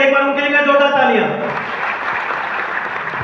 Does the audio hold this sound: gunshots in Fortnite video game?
no